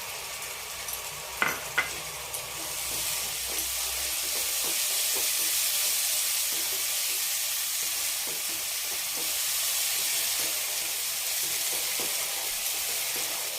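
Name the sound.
tomato paste frying in oil with spices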